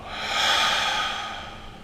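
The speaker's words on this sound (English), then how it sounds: "Last one, big inhale. And exhale." A big, slow exhale through the mouth during a guided meditation breathing exercise: one long, airy breath that swells, then tapers off over about two seconds, close and alone.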